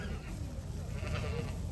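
Icelandic sheep bleat faintly amid steady outdoor wind noise and low rumble in Iceland, the calls soft and partly buried.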